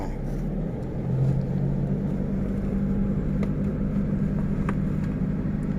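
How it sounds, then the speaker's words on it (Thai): A Toyota Vigo manual pickup's engine hums steadily and swells slightly after the clutch is let out and throttle applied, heard from inside the cab as a low, even drone with a few faint clicks and no talk. "ปล่อยคลัสออกมาแล้วก็กดคันเร่งได้"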